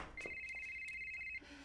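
A phone rings with an incoming call as one sustained electronic tone, fairly quiet, with faint background sounds underneath before it cuts off.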